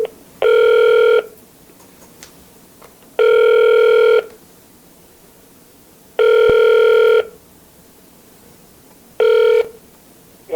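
Telephone ringing tone on an outgoing call being connected, four long rings repeating at a steady rhythm with silent gaps between, clear and close with no talking over it.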